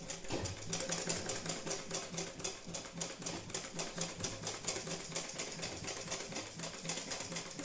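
A sewing machine stitches straight through paper in a fast, even rattle of needle strikes, running continuously and close for several seconds.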